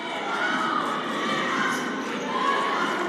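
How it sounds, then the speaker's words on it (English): Crowd noise at a women's college basketball game, Indiana Tech at Lawrence Tech: a broad, sustained roar of cheering and shouting voices swells through the arena. "This one's down to 6 as the crowd comes alive here at the Don."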